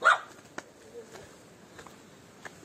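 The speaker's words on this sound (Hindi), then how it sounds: "भेड़िया भेड़िया जैसा कुत्ता, ये लोकल कुत्ता।" A local village dog in a wooden Arunachal hill village near the China border gives a few scattered, fairly distant barks and yips, with faint voices and background murmur in between.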